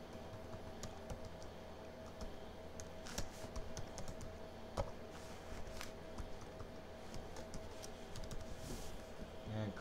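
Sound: typing a website URL on a computer keyboard

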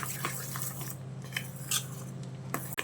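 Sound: whisking dahi vada batter in a bowl

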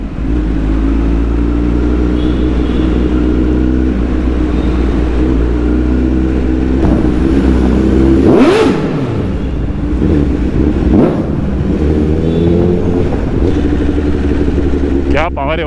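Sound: limited edition car revving and accelerating hard in first gear

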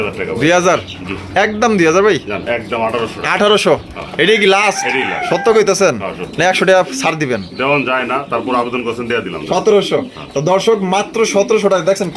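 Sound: chickens crowing and clucking

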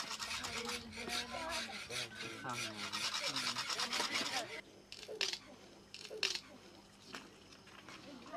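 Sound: carpenter's rasp made of wild boar jaw scraping wood

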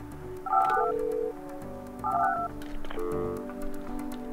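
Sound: telephone dialing sound in video game Project Highrise

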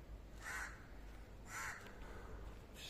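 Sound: crows cawing

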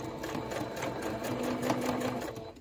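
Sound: sewing machine top stitching a jar opener

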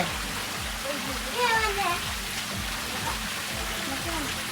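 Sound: garden waterfall flowing water

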